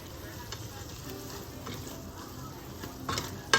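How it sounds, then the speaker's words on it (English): Broccoli cooking in a pan, with a quiet sizzle and a few soft scrapes as it is stirred around, ending in a sharper clink. "So I'm just kind of stirring it around a little bit, let my broccoli cook a little bit."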